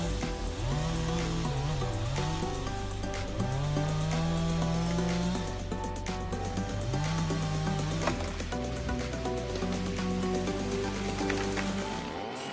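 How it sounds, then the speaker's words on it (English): A Stihl MS660 chainsaw with a 91.6cc engine and 25-inch bar cuts through large fallen trees, its engine droning loud and continuous as the pitch rises and falls with each cut. "the Stihl MS660 is designed for the most demanding jobs, easily cutting through the large trees with its 25-inch bar"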